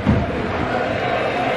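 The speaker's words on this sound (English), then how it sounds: "The fans are great, applauding the players." Football crowd at a lower-league match between Stockport and Newport, a steady roar of fans applauding and cheering the players, dense and continuous throughout with a slightly louder burst at the very start.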